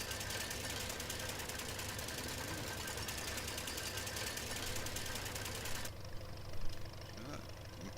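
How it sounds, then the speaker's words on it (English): A restored McCormick Deering tractor engine in Farming Simulator 17 chugs at a steady idle with a fast rhythmic knock, then drops to a quieter note near the end. "McCormick Deering sounds nice."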